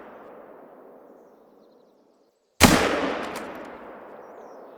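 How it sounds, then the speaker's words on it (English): A rifle shot in the hunting video game theHunter: Call of the Wild: after a low ambient rumble drops to silence, one loud, sharp crack bursts out and trails into a long, fading echo. "I'm freaking shooting at you."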